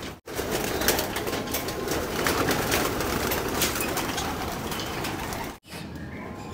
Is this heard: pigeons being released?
yes